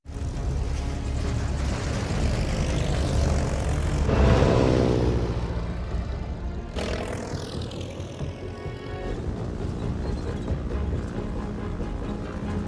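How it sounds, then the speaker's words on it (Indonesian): A military propeller plane's engine drones loudly and steadily on takeoff, swelling briefly as it powers up, with the roar continuing throughout. "satu persatu pesawat dipandu oleh Aji untuk mengudara."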